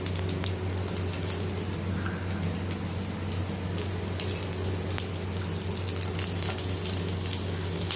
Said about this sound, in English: Once it becomes hot, going to add onion petals,